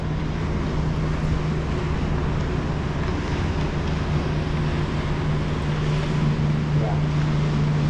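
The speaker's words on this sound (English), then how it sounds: "a whole bunch of little boats are coming and going" Small boats coming and going in a busy harbor in Nuuk, Greenland: a steady engine drone with a low hum mixes with buffeting wind noise, a constant busy rumble throughout.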